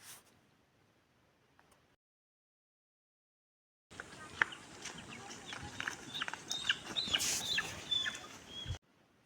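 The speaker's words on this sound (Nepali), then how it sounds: "आमाले चाहिँ कुखुरालाई दबाई खुवाउँदै हुनु रहेछ" Sick chickens cluck and chatter near a house while being fed a garlic and home-brewed jaand medicine, faint at first, then a busy burst of clucking and rustling after a pause of near silence.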